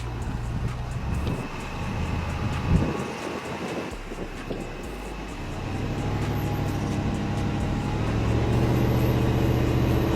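A Range Rover SUV on standard snow tires, automatic terrain response, drives off road from a standstill, its engine a steady low rumble with road and tire noise that grows slightly louder toward the end.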